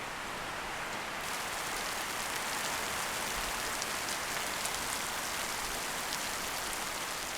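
Steady rain pours down in a rural village setting amid a locust outbreak, a dense, even hiss of drops on surfaces lasting throughout with no pauses.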